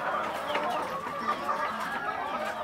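Hungry backyard hens cluck while they wait to be fed, producing a busy run of overlapping, nearby clucks and short calls that continues throughout.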